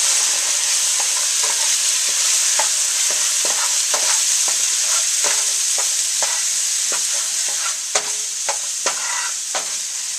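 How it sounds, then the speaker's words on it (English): Shallots and onions sizzle loudly in a pan as red wine is added to deglaze it for a beef pot roast, with a constant hiss and repeated soft scraping taps from stirring. "I'm going to deglaze the pan with some red wine and just let it cook down a little"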